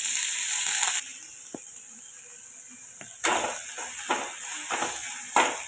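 Green chilli and garlic sauté in hot oil for vada pav, a steady broadband sizzle broken by sharp crackling bursts and scraping stirs, close and fairly loud with no talking.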